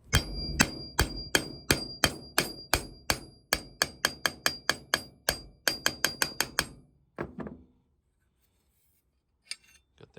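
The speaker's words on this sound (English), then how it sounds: "Just putting this on a surface and just tapping this nut flat, not mess up the threads." A hammer taps a rusty nut flat on a hard surface in a rapid, steady series of about thirty sharp metallic strikes, close and loud, ending in a few scattered knocks and then quiet.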